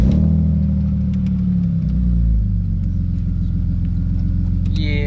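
BMW Z4 engine fitted with aftermarket golden headers, a loud, close, steady rumbling idle that lifts briefly in pitch before settling back, with no talk over it.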